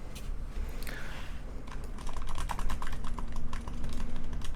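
Close keyboard typing on Cherry MX silent red switches gives a steady patter of soft, muted keystrokes over a faint background hum.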